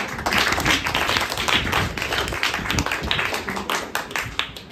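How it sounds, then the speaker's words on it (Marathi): Enthusiastic audience applause welcoming a storyteller at a Marathi children's literature convention held in a school, dense continuous clapping from a large crowd that stays loud throughout. "जोरदार टाळ्या वाजवून त्यांचं स्वागत."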